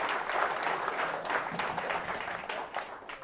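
Comedy club audience claps steadily for a volunteer during a live comedy magic show, a moderate round of applause from a small room that holds evenly throughout.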